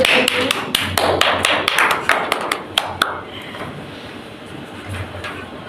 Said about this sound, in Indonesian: Bisa tepuk tangan buat Mbak Eni.